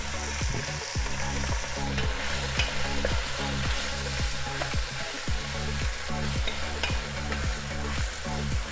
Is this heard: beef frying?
yes